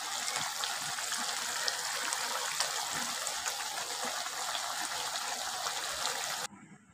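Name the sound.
curry broth with taro stolons and shrimp boiling in covered pot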